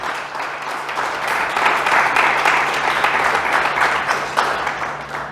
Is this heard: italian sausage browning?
no